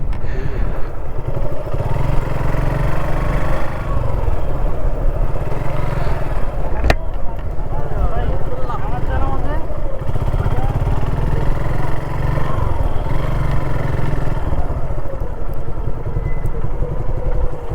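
Close motorbike engine rumble and rattle on a rough path down by the Teesta riverbank, steady throughout with a brief sharp knock partway and a murmur of voices underneath.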